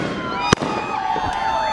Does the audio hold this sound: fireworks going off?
yes